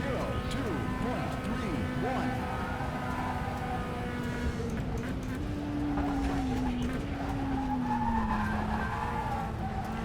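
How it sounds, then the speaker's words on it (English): Race car tires skidding in the rFactor 2 sim racing game: a sustained squealing tone bends up and down over a steady engine roar for ten seconds. "loads of sliding through there"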